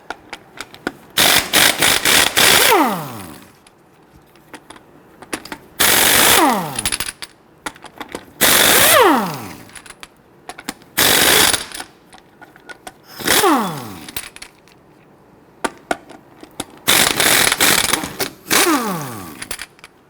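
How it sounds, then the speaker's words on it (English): Lug nuts on a Hummer H3 wheel are loosened with a 19mm socket on an impact gun, loud buzzing bursts of a few seconds each repeating about six times, with pauses between. "using a 19mm socket, I want to go loosen and remove your lug nuts"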